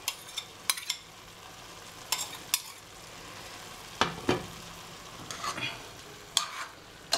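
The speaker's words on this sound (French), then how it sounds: "Je remue l'ensemble des produits et je rajoute de l'eau." Meat and ingredients for mafé are stirred in a pot over a soft, steady sizzle, with scattered scrapes and clinks of a utensil against the pot, some in quick pairs, close but quiet.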